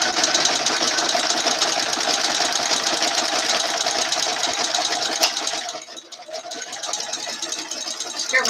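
A sewing machine fitted with an overcast presser foot stitches a wide edging stitch, giving a steady, loud, fast mechanical whir that dips briefly and then resumes.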